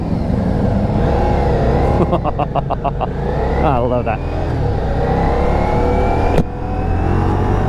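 A Ducati Diavel V4 motorcycle engine idles at a stoplight and is blipped through a few quick, rising revs, loud and close, with someone talking over it.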